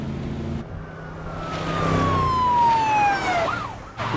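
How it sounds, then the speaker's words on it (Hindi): A police siren wails with a falling tone in Grand Theft Auto V, loud and close, over a low vehicle rumble. "पीछे पुलिस की गाड़ी लगी पड़ी है और भाग रहे हैं"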